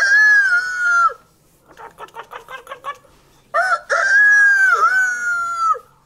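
A person imitates a healthy chicken's call with loud, close, drawn-out crowing cries, broken by a burst of rapid clucking in the middle, then two more long, wavering crows.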